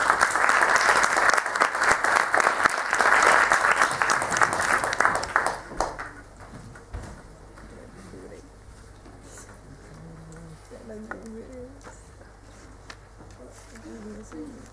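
Dense audience applause at a symposium welcomes a speaker, loud for about six seconds before fading, followed by quieter room noise and brief speech.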